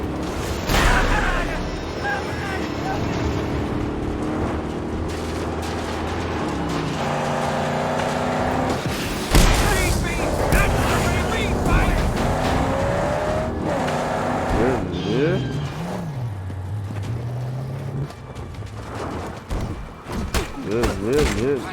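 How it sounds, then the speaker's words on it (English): A truck engine drones in a video game, joined by other vehicle noises with rising and falling revs, steady and loud throughout while a voice talks over it. "Now to keep this truck intact."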